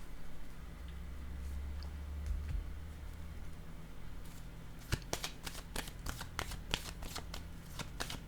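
Tarot cards are handled on a table: a low hum with a few soft touches, then a quick run of crisp, close card flicks and taps, with no one talking.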